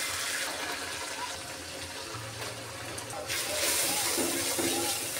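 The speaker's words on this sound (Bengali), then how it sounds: "এখন একটু পানি দিয়ে দিলাম।" Water is poured into curry cooking in a pan, making a continuous splashing, gushing flow that swells louder near the end, with muffled kitchen background noise.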